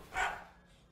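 A dog in a played video clip gives a single short bark, fairly faint and thin, followed by quiet.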